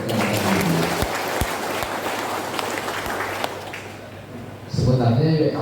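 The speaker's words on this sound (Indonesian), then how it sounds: "Tepuk tangan yang meriah untuk ini." An indoor audience of village council members and residents at a Sambas regency government gathering claps steadily and warmly. An amplified voice speaks over the applause at the beginning and again as it fades near the end.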